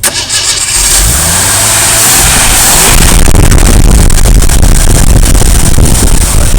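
A 40-year-old Jeep CJ7 engine cranks with a rising starter whine, catches and fires, then revs loudly with a fast rough idle, heard close.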